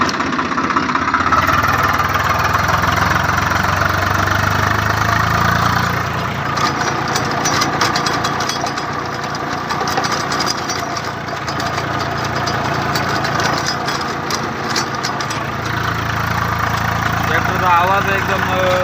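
Sonalika tractor pulling a rotavator in second gear under load, a loud, steady diesel drone with knocking pulses and rattling, running continuously near the listener.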